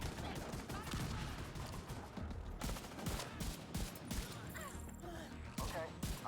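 Blind-fire gunshots in the shooter game The Division 2 crack out in loud, repeated bursts of automatic fire with short gaps between them, with mechanical clatter and scattered in-game noise and no voices.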